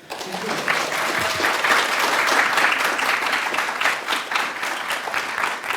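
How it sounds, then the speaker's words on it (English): An audience applauds a speaker at an art lecture, with steady, dense clapping that fills the room at an even level from start to finish. "Please clap for Stephen Hendricks."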